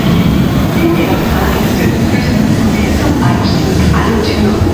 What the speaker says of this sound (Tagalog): Ayan yung train ko guys.